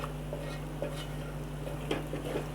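Potato slices cooking in a pan as a spoon stirs them, soft scraping strokes over a steady low sizzle and hum, with no voices.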